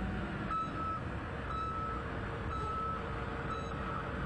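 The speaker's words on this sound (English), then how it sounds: "be sure that all truck backup alarms work properly." An asphalt paving haul truck's backup alarm beeps four times at an even one-second pace, each tone clear and steady over a constant loud diesel engine rumble.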